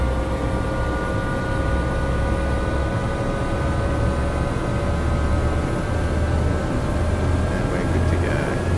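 A Bell 407 helicopter's turbine engine runs on throttle in the X-Plane 10 simulator. It gives a steady high whine over a constant rumbling roar, close and even throughout.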